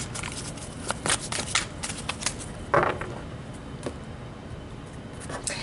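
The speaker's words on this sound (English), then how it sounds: "So let's pull some emotion cards to add to the romance angels." Emotion oracle cards shuffled by hand at close range, a quick run of crisp riffling flicks and slaps with brief pauses between bursts, and no talking.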